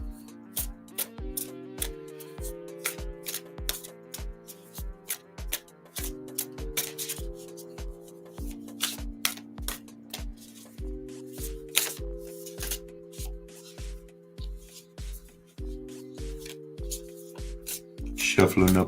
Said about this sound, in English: Shuffling up some cards,